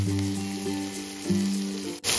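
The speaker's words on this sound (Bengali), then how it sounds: "এবার পেঁয়াজটা একটু হালকা ভাজা ভাজা করে নেব।" Chopped onion with torn green chilies frying lightly in a pan makes a steady close sizzle over a low humming tone, ending with a sudden clatter.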